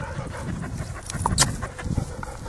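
A dog pants steadily and close by, quick rhythmic breaths with a few faint whimpers and some light handling noise, and no talking.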